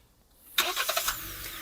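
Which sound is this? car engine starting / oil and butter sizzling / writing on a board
car engine starting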